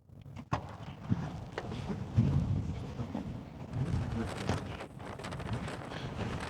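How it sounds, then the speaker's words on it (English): Strong wind buffets the microphone in heavy, continuous rumbling gusts that surge and fade, in a high valley of the Argentinian Andes at about 14,000 ft, with no voices heard. "It is incredibly windy."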